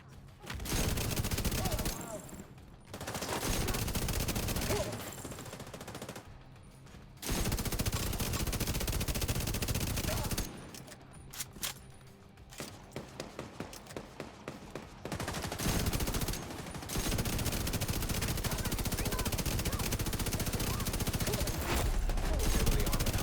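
Automatic gunfire rattles in The Division, bursts of rapid shots broken by brief pauses, loud and close, with a voice speaking intermittently over the combat.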